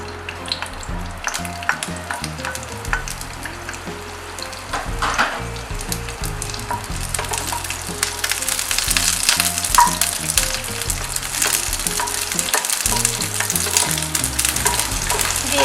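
Chopped onions fry loudly in a pan for egg korma, a dense continuous sizzle with scattered crackles that grows stronger and brighter after the first half.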